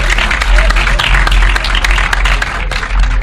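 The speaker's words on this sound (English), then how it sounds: "Put your hands together for him!" Studio audience applauding on a Nigerian television quiz show, dense steady clapping that fills the whole stretch at close, loud level, with crowd noise mixed in and a low hum underneath.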